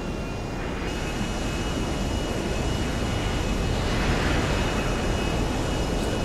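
Steady, loud airplane engine drone inside Grand Theft Auto V during a flight toward the LAX runway, a continuous dense roar that holds evenly throughout with no talking.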